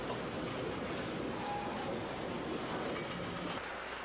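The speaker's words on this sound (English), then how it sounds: "The railroad takes the ladles to the steelmaking furnaces or foundries." A railroad train hauls ladles to the steelmaking furnaces at a steel works, producing a steady rumble and rolling clatter of rail cars with faint wheel squeal, continuous and moderately distant.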